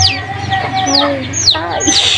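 Chicken clucking close by with repeated short, varied clucks and squawks, while a child and an adult talk over it.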